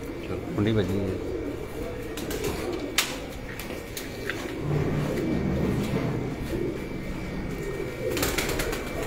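A man's Dubai Teddy pigeons coo softly in a cage, low murmuring calls heard under steady nearby talk and background noise.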